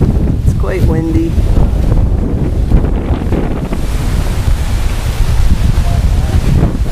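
Strong storm wind roars steadily and loudly across the microphone, with dense gusting noise that never lets up, no voices heard.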